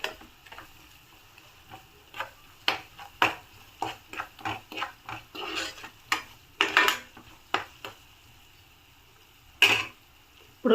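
Ginger garlic paste and salt are stirred in a pan for aloo kurma: a spoon scrapes and clicks against the metal in irregular strokes over a faint sizzle, close and fairly quiet, with no talk.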